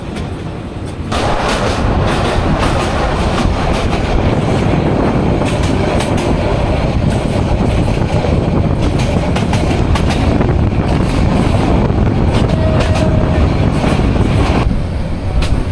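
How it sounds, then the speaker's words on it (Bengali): The Meghna Express, an intercity train on the Chandpur to Chattogram line, makes a loud, continuous rumble and rattle of wheels on rails, heard up close with rhythmic clatter and occasional sharp knocks. "হাজীগঞ্জ থেকে আমাদের ট্রেন ছেড়ে দিল"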